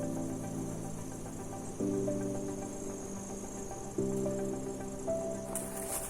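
Honeybees working on flowers outdoors, a steady layered buzzing hum with shifting tones, continuous and moderately close, with no talk.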